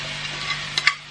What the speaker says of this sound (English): And then we're just gonna saute for another minute.